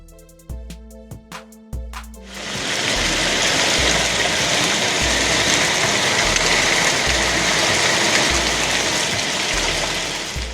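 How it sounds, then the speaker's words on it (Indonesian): Severe hailstorm in Villarreal, Portugal: after a few seconds of scattered knocks, a dense, steady roar of hail pounding surfaces rises abruptly and continues loud and unbroken to the end. "Hujan es parah di Villarreal, Portugal."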